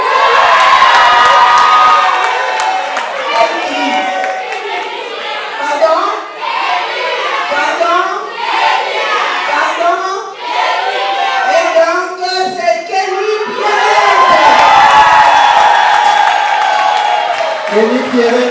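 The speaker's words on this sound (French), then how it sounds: "Un tonnerre d'applaudissements pour l'actrice, s'il vous plaît, mesdames et messieurs." Loud crowd at an awards gala cheering, whooping and applauding steadily for a best supporting actress winner, with children shouting amid the dense roar that swells again near the end.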